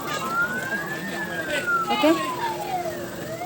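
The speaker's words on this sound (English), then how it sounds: "Oh my god, there is an ambulance" An ambulance siren wails past the Pineapple Dam Nature Trail in Shing Mun Country Park, its tone sweeping up and down at a middling distance while a person talks nearby over outdoor background noise.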